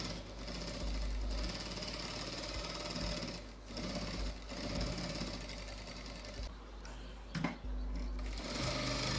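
Sewing machine stitching along the lining of a designer blouse, a steady continuous mechanical whir running almost without pause, close and fairly loud, with only brief dips.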